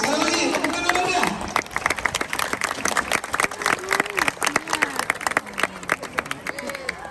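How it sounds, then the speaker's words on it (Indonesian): Students at a school mental health seminar applaud as a crowd, a dense burst of clapping that thins into scattered claps under lively crowd chatter and shouts. "Sekali lagi, tepuk tangan meriah."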